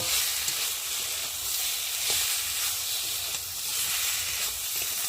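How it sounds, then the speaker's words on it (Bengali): A paste of ground cumin, ginger, chopped tomato and chili powder fries in oil, giving a steady, dense sizzle with faint scraping from stirring throughout. "দিয়ে দেবো জিরে বাটা, আদা বাটা, টমেটো কুচি আর গুঁড়ো লঙ্কা দিয়ে ভালো করে মশলাটা কষিয়ে নেব।"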